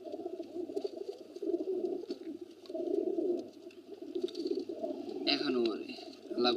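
Pigeons in an old home loft coo in low, rolling murmurs amid scratchy patter and shuffling, close up, while someone talks over them throughout.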